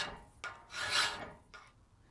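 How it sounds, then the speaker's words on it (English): A hand-forged round veining butcher tool is worked with a file in a blacksmith's shop, giving a few short rasping strokes, one longer and louder in the middle, fairly quiet and close, with no talking. "I'm going to continue filing on this a little bit more"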